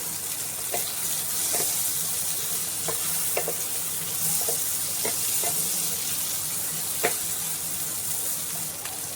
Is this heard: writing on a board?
no